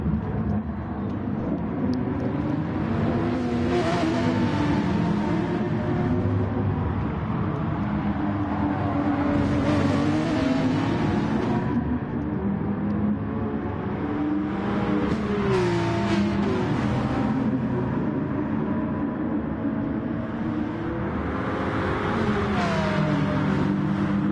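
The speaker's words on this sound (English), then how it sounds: "pushing that Porsche as hard as he can" A Porsche race car engine in a racing video game, with sustained loud, close droning that climbs and drops through gear changes and revs over a long stretch, with no talk.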